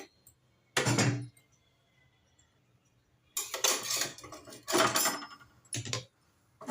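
Metal stove grates and plates being picked up and set down, several loud clanking bursts of metal against metal separated by quiet pauses, close by with no talk.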